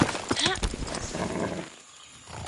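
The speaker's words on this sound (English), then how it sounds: "Hey, a magic horse." A horse in the video game Far Cry 6 snorts and clip-clops close by, a short burst of hoofbeats and breathy snorting that fades into near quiet before a few more sounds at the end.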